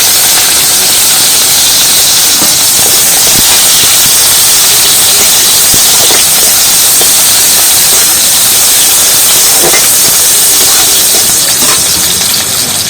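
Dried chillies and onion hit hot oil in a wok, a loud, dense, continuous hiss of sizzling that fills the foreground with faint crackles in it and no talk.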